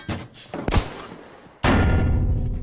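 Grenade blast against a German tank crew in a Soviet T-34 war film scene, a sharp thud followed by a loud, sustained broadband roar that holds steady to the end.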